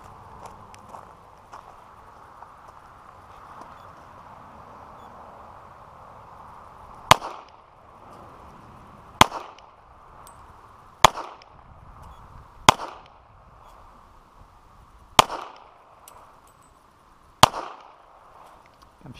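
A .40 caliber pistol fired at an indoor gun range, six sharp separate shots spaced about two seconds apart over a steady hum of ventilation, each crack loud with a short echoing tail.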